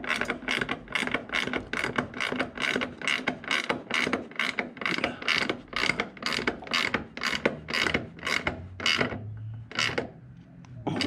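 A ratchet wrench tightens a nut on a Jaguar MKII during reassembly, working close up in a long steady train of rapid clicking strokes that carries on almost unbroken before slowing and stopping near the end.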